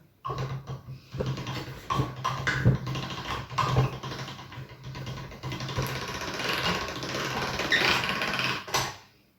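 A hand-cranked pasta machine rolls ravioli dough at setting one, giving a steady mechanical whirring and clicking that runs for several seconds before stopping abruptly.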